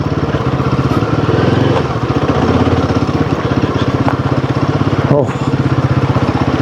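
A motorcycle engine thrums loud and close with a rhythmic, pulsing beat as the bike rolls down a steep offroad descent on the Sach Pass to Killar mountain route, a voice speaking over the engine.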